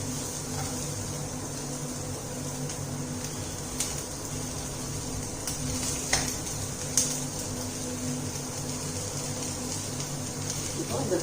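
Food sautés in a pan with a steady, soft sizzle, broken by occasional light clinks and scrapes of a utensil against the cookware.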